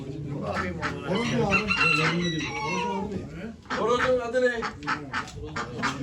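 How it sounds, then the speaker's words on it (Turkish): A rooster crows amid clucking poultry at a poultry auction in Ankara, with people talking nearby over the birds. "10 numarada bir horoz"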